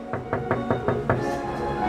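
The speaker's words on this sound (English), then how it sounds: "If I knock" Six evenly spaced knocks rap on the door of the casting agency on Main Street U.S.A. at Disneyland Paris, close and fairly loud, with a soft background hum.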